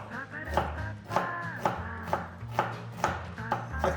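A knife chops a quarter of an onion for janchi guksu on a board, seven or eight sharp, evenly spaced strokes close up over a low background hum.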